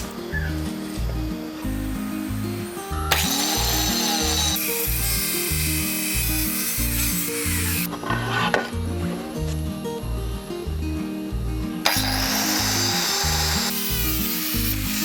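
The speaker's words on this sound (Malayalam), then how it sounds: "ഇനി പട്ടിക കഷ്ണം എടുത്ത് കട്ട് ചെയ്യാം." A wooden plank is cut with a power tool, a steady motor drone under rhythmic rasping strokes, with louder bursts of cutting noise in several passes, close by and without talk.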